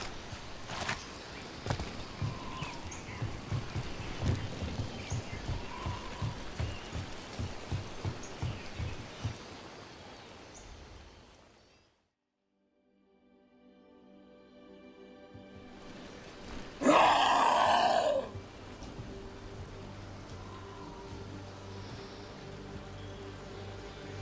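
Rain pours steadily in Dragon Age The Veilguard, a dense patter with a few heavier thumps and footsteps, dropping briefly to near silence before resuming with a sudden loud burst.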